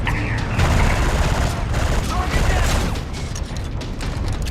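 Rapid bursts of video game gunfire, loud and dense, from PS4 reveal footage at a live console launch event, with dense mixed noise and possible crowd voices underneath.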